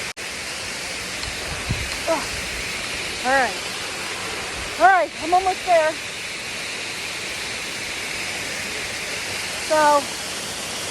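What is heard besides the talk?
rushing waterfall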